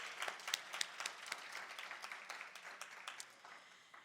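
Applause from a gala audience after a tribute to a longtime leader, fairly faint with many scattered claps, steady at first and gradually thinning toward the end.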